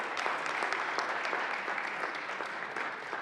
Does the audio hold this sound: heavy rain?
no